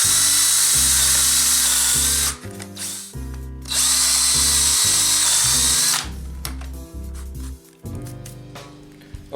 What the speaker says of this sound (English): I'm going to go ahead and drill my holes.